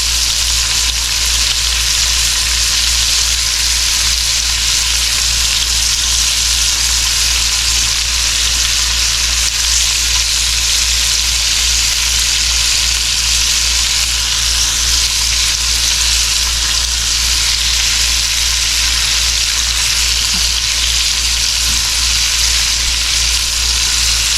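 Onions for a French onion chicken bake sizzle and caramelize steadily in a pan, a continuous close, loud frying hiss with no pauses over the whole stretch.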